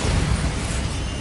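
Bombarda blasting spell in Hogwarts Legacy, a short, loud, rumbling explosion that fills the moment with steady low-heavy blast noise.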